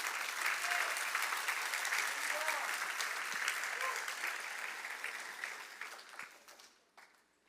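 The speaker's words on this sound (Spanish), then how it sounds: "Dale un aplauso si lo crees" Applause from a church congregation during a Spanish-language sermon, a dense wash of clapping that holds steady, then thins and fades out near the end, with a voice faintly present.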